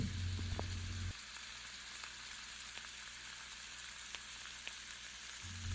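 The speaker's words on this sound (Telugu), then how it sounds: "మొత్తం కలిపి డీప్ ఫ్రై చేసుకోవాలన్నమాట" A tomato and egg mixture deep-fries in oil, a soft, steady hiss and crackle of bubbling oil that carries on evenly and fairly quietly, with a low hum in the background and no talking.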